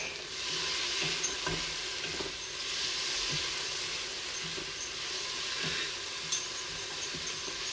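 Garlic, cumin and oregano fry in a soup pot, a steady close sizzle and hiss with occasional soft stirring scrapes throughout, no voices.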